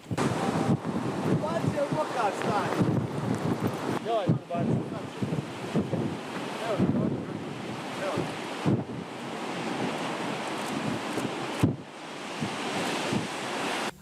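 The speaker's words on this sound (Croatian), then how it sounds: "Valovi su na nekim mjestima prebacivali čak i zidine." Storm waves from a strong jugo wind crash against the Dubrovnik city walls, with irregular heavy surges and constant wind buffeting on the microphone. The sea roars loud and close, and a few sharp bursts stand out.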